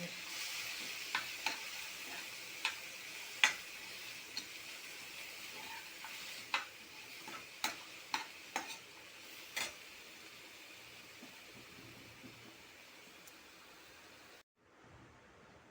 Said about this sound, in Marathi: आपण हे सगळे पदार्थ कढईमध्ये टाकून घेतलेले आहेत दोनच मिनटं आपण फक्त कलकवणार आहोत